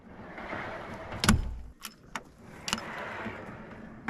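A drawer in a Landcruiser 200 touring fitout is pulled open, giving a sharp sliding clunk followed by several lighter metallic knocks and rattles from tools and spare parts inside, close up with no talking.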